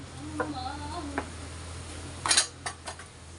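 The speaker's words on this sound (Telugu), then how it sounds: "ఇంకా ఈ గిన్నెలన్నీ కూడా ఖాళీ చేస్తాను అనమాట" Metal pots and bowls being emptied and handled in a home kitchen before washing, with a few soft clinks early on and a louder burst of clattering metal near the end, over a low steady hum.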